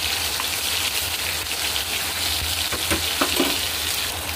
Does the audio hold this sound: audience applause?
no